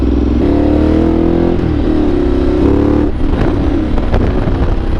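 A Ducati motorcycle engine drones loud and close while being ridden, its steady tone rising and falling slightly with the throttle throughout, with no talk.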